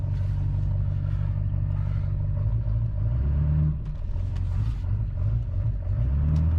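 A Duramax diesel truck engine runs nearby with a deep, loud rumble, blipping through several revs with a clattery diesel knock between them.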